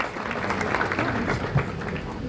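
Applause from the audience at an agronomy and veterinary institute forum, a moderately loud mass of clapping with crowd murmur mixed in, fairly close and continuous.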